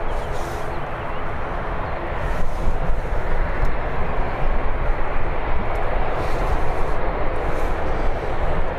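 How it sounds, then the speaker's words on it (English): An EasyJet airliner taxiing onto the runway at Birmingham airport gives a continuous engine rumble that swells slightly midway, steady and fairly close, with no talk over it. "Do have EasyJet making its way onto the runway now"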